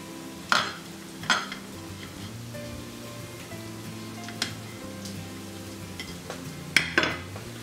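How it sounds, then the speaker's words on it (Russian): Finely chopped peppers and onions frying in a pan with a soft steady sizzle, broken by several sharp clinks and scrapes as the vegetables are stirred, with no speech. "И добавляем наши мелко нарезанные перчик и лучок."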